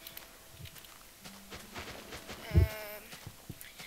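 Sheep bleating in a Minecraft-style video game, a single short bleat rising clearly midway over faint background game noise and soft footstep-like clicks.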